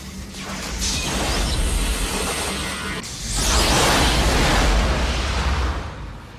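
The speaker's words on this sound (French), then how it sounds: "nos 3 astronautes entendent une grosse explosion à l'extérieur de la navette" A big explosion outside the Apollo 13 spacecraft, heard as a sustained loud roaring rumble that swells in two broad surges, the second stronger, with no voices.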